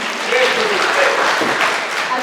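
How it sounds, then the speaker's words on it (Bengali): Audience applause fills the hall at a Bengali music event in Sydney, a dense, sustained clapping that holds strong for the whole stretch while a voice speaks over it. "আর একটু জোরে হাততালি"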